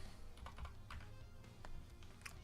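Quick, irregular keystrokes on a computer keyboard during a game development session, a scattering of light clicks over a steady low background hum, fairly quiet and close.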